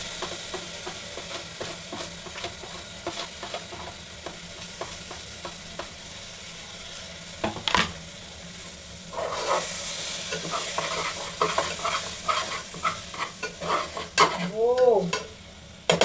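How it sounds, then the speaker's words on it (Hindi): Ginger, garlic and chili paste frying in a pan for chole, with steady sizzling and repeated stirring scrapes running throughout, loudest near the end with a brief squeak of the utensil. "नेक्स्ट हम डालेंगे ये जो जिंजर गार्लिक और मिर्ची का पेस्ट जो हम बनाए हैं"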